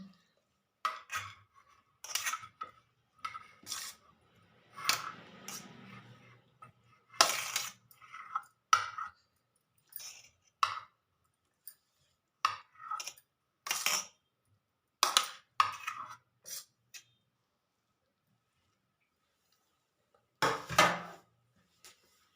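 Cooked food being spooned into a serving bowl, giving a string of sharp, separate dish and utensil clinks at irregular intervals, close and fairly quiet with pauses of silence between them.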